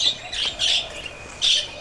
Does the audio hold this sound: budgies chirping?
yes